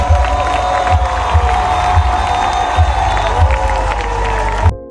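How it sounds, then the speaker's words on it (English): A large live crowd cheers and roars loudly in an arena at the Pokemon World Championship Unite grand finals in Honolulu, with a rhythmic thumping beat and shouts underneath before the sound cuts off abruptly. "This is how energetic and loud the crowd gets as the grand finals are concluding."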